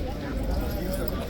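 A mounted trooper's horse clops its hooves at Horse Guards gates among people, a low steady rhythm of hoofbeats blended with crowd talk.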